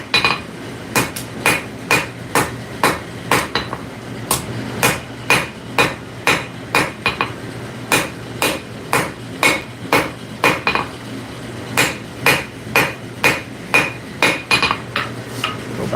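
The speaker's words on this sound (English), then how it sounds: "So I'm only forging in front of that section." A hammer strikes a steel bar being forged, leaving one section square for a twist, in sharp ringing blows that come in quick bursts with short pauses, loud and close with no talk.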